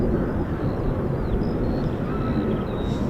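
An F-35B stealth fighter jet flying, heard as a steady, broad jet roar that holds at an even level throughout, with faint higher whines drifting above it and no voices.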